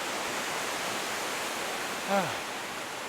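Steady broadband rushing of a waterfall near Palisade Creek fills the whole clip, with a brief voice-like sound rising over it near the end.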